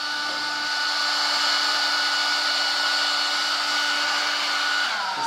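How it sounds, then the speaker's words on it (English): A hair dryer blows warm air steadily over the lace of a lace-front hair replacement system, a loud, even whoosh that holds for about five seconds before winding down at the end. "I'm just going to put a little bit of warm air to dry the lace a little bit."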